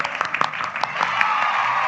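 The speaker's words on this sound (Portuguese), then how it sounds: "Palmas para o pastor e essa história linda." A church audience at a podcast tribute to a pastor breaks into applause. Scattered claps at the start build into steady, full clapping from the crowd.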